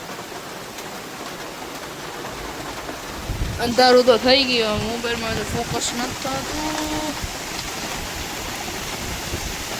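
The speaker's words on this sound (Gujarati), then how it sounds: "વરસાદ વધી ગયો" Heavy rain pours steadily outdoors at dusk, a dense broadband hiss running throughout, while people talk over it in the middle stretch.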